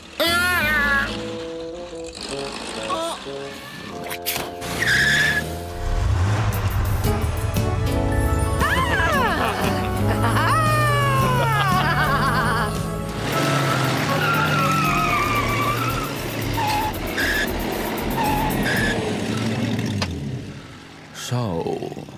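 Cartoon car roaring along with tires squealing and skidding, loud engine drone with sliding whines and pitch swoops, mixed with character voices talking and exclaiming over it.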